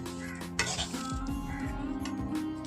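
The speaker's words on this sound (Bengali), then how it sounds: "গোটা গরম মশলা, তার সঙ্গে 1 চামচ আদা দিয়ে এখন চালটা ভাজা ভাজা করছি" Basmati rice being fried in a pan with whole garam masala and a spoonful of ginger, giving a steady close stir with a soft sizzle and light scraping of utensil against pan, no voices.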